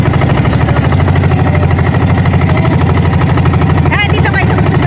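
A motorboat engine runs loud and steady with a throbbing idle, while people talk close by over the engine noise.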